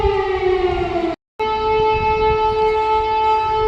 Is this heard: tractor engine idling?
no